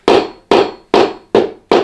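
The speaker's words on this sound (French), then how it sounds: "Avec un foutu marteau." A hammer strikes five times in an even rhythm, each blow a sharp, loud, close knock followed by a short decaying ring, with quiet gaps between.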